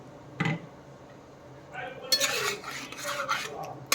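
Beaten sour yogurt goes into chicken simmering in a pan. A spoon clinks against a bowl, then the cookware clatters and scrapes, with a broad hiss and splatter as the yogurt hits the hot pan. Faint voice underneath.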